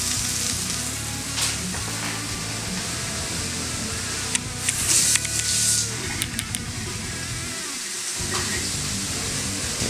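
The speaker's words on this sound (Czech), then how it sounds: "Šampiony se nám smažej." Champignon mushrooms fry in a pan with a close, constant sizzle, broken midway by a brief burst of sharper clicks and clatter before the steady hiss resumes.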